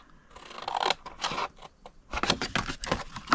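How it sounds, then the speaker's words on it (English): Scissors snip through cardstock along score lines while a treat box is made, giving a close, crisp series of short cutting bursts with brief pauses between them and no talk. "Go to the next 2 score lines and cut them to the second score line."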